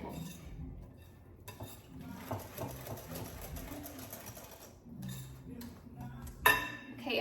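Applesauce is stirred into cake mix in a bowl, with quiet scraping and light clinks of a utensil against the dish, a louder knock near the end, and faint background noise.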